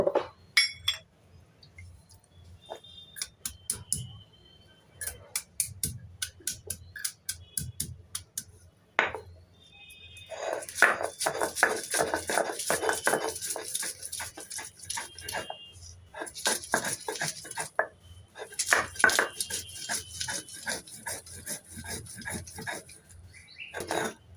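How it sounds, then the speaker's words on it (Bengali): Ginger, garlic and green chilies are ground into a paste for an egg recipe with mustard and poppy seed, heard as repeated rhythmic scraping and clattering strokes that come in bursts, close and fairly loud, with brief pauses. "আদা রসুন আর কাঁচা লঙ্কাটাকে আমি আগে বেটে নেব"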